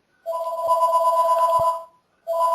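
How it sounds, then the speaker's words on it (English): A telephone rings in an indoor room, one long electronic trill lasting about a second and a half, then a pause and the start of the next ring, loud and close with no one talking. "I apologize for that telephone ringing"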